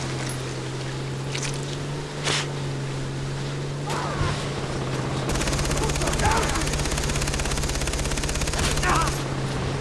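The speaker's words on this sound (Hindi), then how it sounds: "वहाँ पर भी फायरिंग हो रही है" Rapid automatic gunfire rattles in the video game Far Cry 3 during a roadside fight with cars, continuous and loud over a steady engine-like drone, with someone talking over it.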